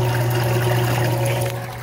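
A small flow of water trickles from a 1.5-inch white pipe into a backyard aquaponics sump tank, a steady close liquid wash over a constant low pump-like hum.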